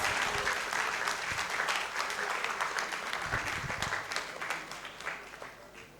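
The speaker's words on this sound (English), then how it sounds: "Please keep clapping till he gets here" Audience applause at an anniversary seminar, a crowd clapping steadily at moderate distance and gradually thinning out toward the end.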